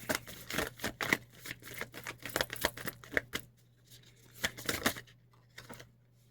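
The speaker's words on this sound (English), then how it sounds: "that's one reason I do like shuffling on camera, because you can see how they pop out." Playing cards are shuffled by hand in quick bursts of crisp flicking and snapping, several rapid rounds close to the mic with brief pauses between them.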